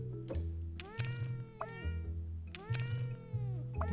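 Cartoon cats in a puzzle video game meow in two repeated bursts of rising and falling cries over a steady looping game music bed, close and clear with no talk.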